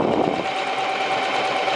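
A sewing machine runs steadily, stitching a long straight skirt seam with a continuous close whirring hum and no pauses or talking.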